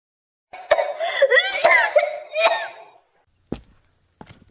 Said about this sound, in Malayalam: മൂളി ചുമച്ചുകൊണ്ട് ഒരു മൂലയിൽ തളർന്നിരിക്കുന്നു